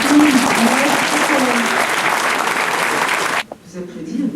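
A hall full of people at a French Communist Party gathering breaks into loud, sustained applause that cuts off abruptly near the end, leaving a quieter room with faint voices.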